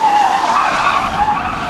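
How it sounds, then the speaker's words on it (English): Police patrol car driven hard on a closed training course, its tires skidding in a loud, sustained squeal close by that wavers slightly in pitch for under two seconds. "The cadets are taking turns behind the wheel of patrol cars on this closed training course."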